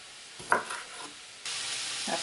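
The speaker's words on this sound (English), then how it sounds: "That's where I'm going to brown my sausage." Smoked sausage browning in about two tablespoons of olive oil in a pan, cooked for a duck and oyster gumbo: a brief clatter of stirring, then a steady, close sizzle that swells and holds to the end.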